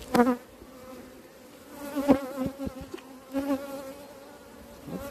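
Honeybee colony buzzing steadily during an early-spring hive inspection as frames are handled, with a continuous close insect drone and a few louder swells of buzzing.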